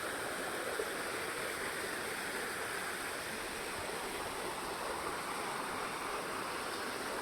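Steady, rushing roar of the Attukad waterfall, a dense unbroken wash of falling water at moderate level with no other sounds.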